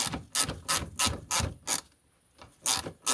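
Ratchet on a 7mm socket turning small screws threaded into plastic on an Audi A2, a close series of crisp clicking bursts in steady rhythm, a brief pause, then more clicking, with no talk.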